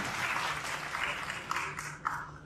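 An audience at a panel discussion talk show applauds, a faint, distant wash of clapping that continues steadily with a few sharper claps near the end.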